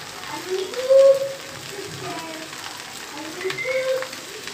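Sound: soy sauce added to Thai chicken fried rice sizzling in pan

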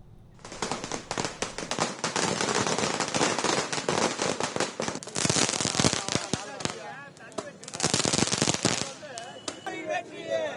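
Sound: firecrackers bursting

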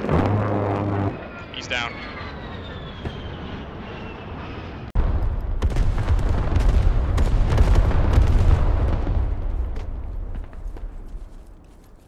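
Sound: airstrike explosions in the video game Squad

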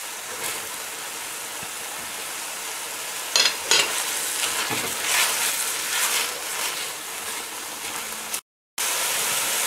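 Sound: ham sizzling in frying pan

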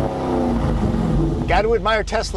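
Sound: Dodge Challenger R/T Scat Pack Hemi V8 engine revving

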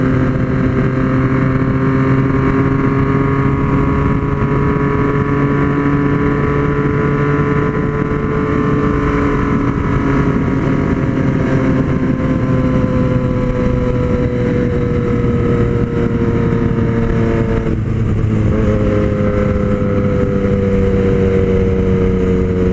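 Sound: Yamaha MT-09 / Suzuki GSX-S750 motorcycle riding and shifting gears

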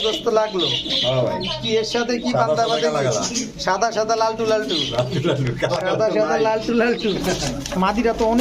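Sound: Bombay and other pigeons cooing

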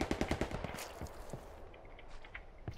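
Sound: gunfire in the video game Hell Let Loose

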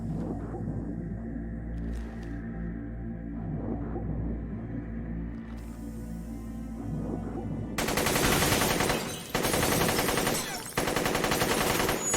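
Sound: AK rifle gunfire from the video game S.T.A.L.K.E.R

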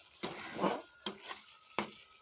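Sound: oil sizzling while frying eggplant in fish oil

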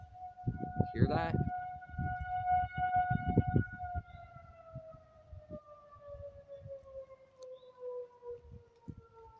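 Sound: tornado warning civil defense sirens winding

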